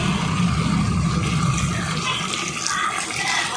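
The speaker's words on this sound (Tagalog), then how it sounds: "Lalagyan ko na po siya ng tubig." Water pours steadily into a cooking pot holding chicken for tinola, a continuous close splashing rush with low gurgling that keeps an even volume from start to finish, with no voices.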